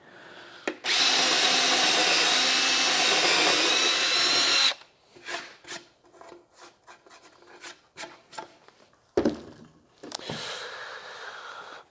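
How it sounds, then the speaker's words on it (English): A cheap little jigsaw fitted with a metal-cutting blade makes a loud, steady buzzing cut for about four seconds, then stops; scattered knocks and handling clatter follow before a second, shorter burst of cutting near the end. "I have put a metal cutting blade in my cheap little jigsaw there"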